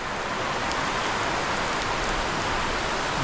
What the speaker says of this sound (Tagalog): Yan mga kabayan, grabing ulan.